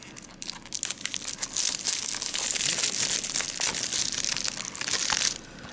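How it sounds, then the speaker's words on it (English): Plastic wrap on an anime DVD being cut and torn with a metal edge, a close, loud run of crinkling and crunching that builds and continues for several seconds before easing off. "cut the plastic"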